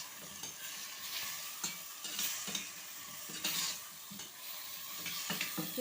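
Taro and garlic are stirred in a pot, a soft steady sizzle with repeated scraping strokes of a spoon against the pot, close and fairly quiet, with no talking.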